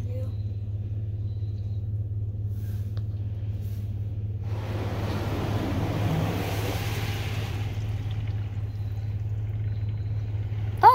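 A RYKO UltraSonic overhead automatic car wash sprays wax over a car, heard from inside as a broad rushing hiss of spray swelling for a few seconds over a constant low machine hum, then easing back to the drone.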